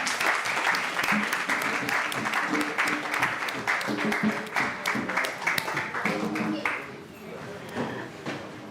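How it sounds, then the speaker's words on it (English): A crowd at an African Liberation Day ceremony applauds a cultural performance group, a dense, steady patter of many hands clapping throughout, fairly close, thinning slightly toward the end. "Give them a round of applause"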